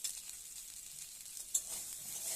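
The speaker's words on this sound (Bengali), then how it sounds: "নেড়ে চেড়ে ভালোভাবে ঢাকা দিয়ে পটল ভেজে তুলে নিচ্ছি" Pointed gourd (potol) fries in a little oil in a covered pan, a soft, even hiss with one brief clink partway through, quiet and without voices.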